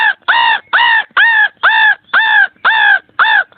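A human voice imitates a crow, giving eight harsh, evenly spaced caws in a steady rhythm, close and loud.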